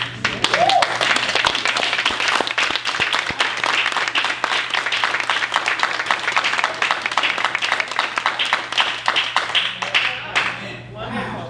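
Sustained audience applause at an employment foundations event, dense rapid clapping from many hands, loud and continuous before tapering off near the end.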